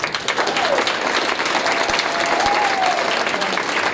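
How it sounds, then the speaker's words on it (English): Loud, dense applause from a wrestling banquet audience fills the room steadily for several seconds, with a few scattered cheers rising over the clapping. "So give them a round of applause."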